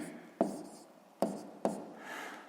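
A pen scratches on paper while a sixth-grade maths exercise is worked out, with three sharp taps of the pen against the page and soft scribbling strokes in between, close and quiet.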